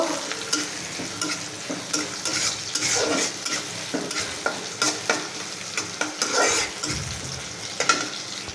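Chopped onions and green chillies sizzle in hot oil in a wok while a spoon stirs them, giving a continuous frying hiss broken by repeated scraping and clattering strokes.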